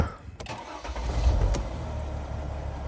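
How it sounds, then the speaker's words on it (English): A 2010 Dodge Sprinter van engine cranks and catches, then settles into a steady low rumble, heard close with no talk over it. "let's go ahead and start this van up"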